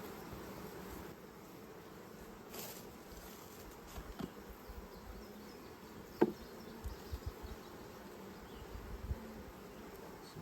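Honey bees buzz continuously around a hive, a low droning hum with a few faint knocks and taps, no talking.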